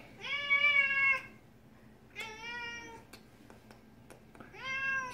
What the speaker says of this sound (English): We caught ourselves a land cat.